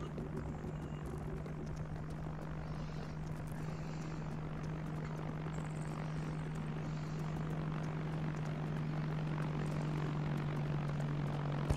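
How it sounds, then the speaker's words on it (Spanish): A military evacuation helicopter during an airsoft-style combat exercise, a steady loud rotor and engine drone with a strong low hum holding throughout, moderately near, with faint radio chatter underneath. "Helicóptero de evacuación llegando a zona desde las 3."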